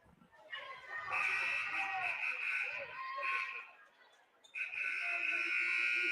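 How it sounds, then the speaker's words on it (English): Scorer's table buzzer at a high school basketball game in a gym, sounding as a long, loud, sustained electronic tone that breaks off briefly and then sounds again, over crowd noise. "We have buzzers."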